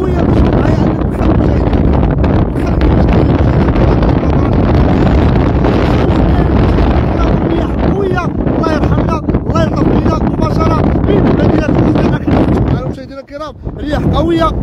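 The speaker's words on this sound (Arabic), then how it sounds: "واش تنتموا عندكم هذه الرياح قويه" Strong wind on a rough sea coast at Bouznika, Morocco, roars loudly and continuously into the microphone, masking the surf, with someone talking throughout and a brief lull near the end.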